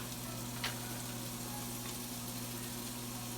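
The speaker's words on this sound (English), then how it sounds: "You want to hear that sizzle with French toast." Steady low sizzling of French toast frying in a pan, continuous and even with a faint hum underneath and one brief click.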